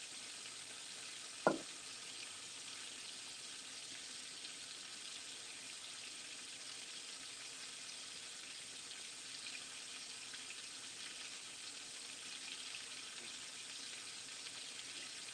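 Whiting fish fries in a Tefal pan with a faint, steady high hiss that runs unbroken and alone, and a single sharp tap comes early on.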